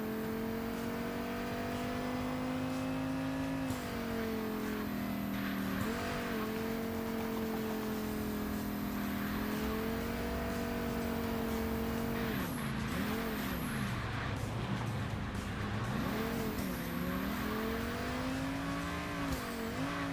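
Engine of a V10 car driven fast in the video game Underground Garage: a continuous loud, buzzing drone that rises and falls with shifts and throttle changes, with tire squeal toward the end.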